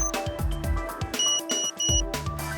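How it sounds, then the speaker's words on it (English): RISE INDORFIN 130 drone sounding a short series of clear electronic beeps right after its battery is connected, close by, with a low hum and clatter underneath. "connect the battery to the drone. Place it on a level surface and wait for the beeps."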